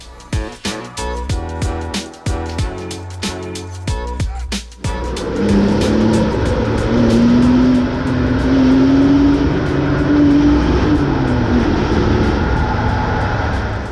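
A BMW fitted with subframe bushing inserts driving on the road; after some sharp clicks and thumps, a steady loud cabin road and engine drone settles in, with a rising and falling tonal whine.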